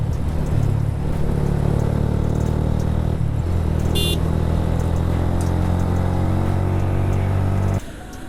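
A vehicle cruises along a highway at 80–90 km/h with a loud, steady engine and road drone, a brief high-pitched whine midway, and the noise dropping off abruptly at the very end.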